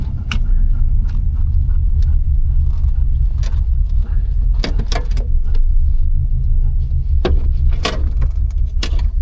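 A Mark 1 Mini 1275 GT engine with SU carburettors idles steadily with a low rumble, punctuated by clicks and knocks from inside the car.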